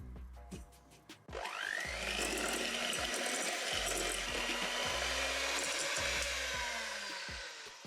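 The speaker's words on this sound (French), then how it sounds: "il faut que vous mélangez le sucre roux" An electric mixer creaming brown sugar and butter for cookie dough, the motor whirring up after a few clicks and then running steadily and fairly close for several seconds.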